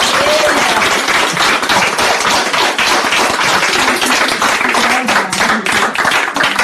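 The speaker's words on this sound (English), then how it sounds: "Applaudissements." Loud, dense audience applause at a church gathering, steady clapping filling the whole stretch without a break, close and full.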